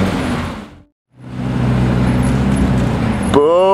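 A modified Ferrari 488 with an upgraded exhaust roars past loud and close. There is a brief silent gap, then the engine rises again and climbs into a high rev at the end.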